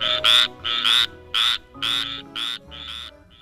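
A frog croaks in a series of about eight loud, close, evenly spaced bursts, each a raspy trill separated by short pauses, with no voices over it.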